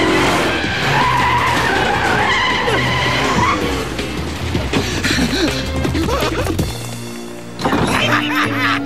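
A stolen taxi in an animated cartoon skids with loud screeching tires, the squeal sliding and wavering for several seconds before an abrupt thump and a short trailing screech.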